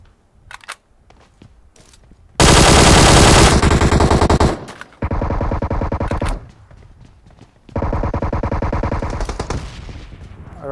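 Sustained bursts of rapid automatic QBZ rifle fire in PUBG Mobile, loud and close, in three long volleys separated by short pauses with faint clicks and movement between them.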